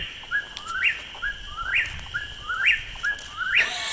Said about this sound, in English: do you hear that whippoorwill? It's gonna be going all night.